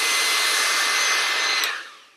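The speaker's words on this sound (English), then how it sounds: "Yeah, these hairdryers." A 250 watt hairdryer blows a loud, steady airy whoosh up close, fading out as it is switched off near the end.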